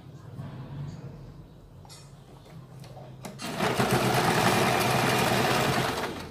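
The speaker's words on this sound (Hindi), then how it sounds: "अब यहाँ पे हमें फिटिंग की पहले सिलाई लगानी है" A sewing machine stitching a kurti fitting seam: quiet handling and a faint voice first, then the motor kicks in for a fast, steady whirring run of stitches, close and loud.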